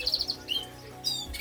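Hens chirping in an outdoor aviary flight on a March day, a busy run of quick high tweets and short calls, close and fairly loud, with brief pauses between bursts.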